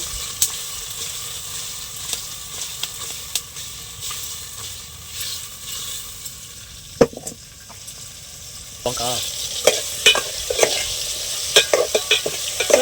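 Koramenu fish curry ingredients, tomatoes, onions and green chillies, are stirred in a hot pan, a steady sizzle with repeated scraping and spoon knocks that grow louder toward the end, with someone speaking over it.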